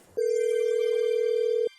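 A single steady electronic phone tone lasts about a second and a half, loud and close, then cuts off sharply, with no talk over it.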